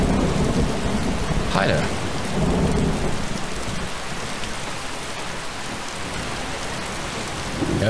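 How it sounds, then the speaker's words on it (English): Steady heavy rain pours in a video game village with a blacksmith's forge, with low rumbling thunder rolling through and a man's brief greeting heard over the downpour. "You should hide from this rain."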